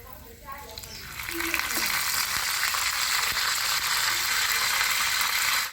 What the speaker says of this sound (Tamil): கருவேப்பிலை போட போறேன்